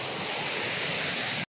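A stream near Punnayar in Idukki rushes downhill toward a waterfall, a dense, steady roar of flowing water that stays loud and even before cutting off abruptly.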